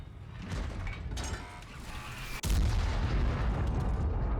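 A heavy tank cannon fires in World of Tanks, with a sharp loud boom partway through followed by sustained rumbling engine and battle noise, set over a steady background of in-game mechanical drone.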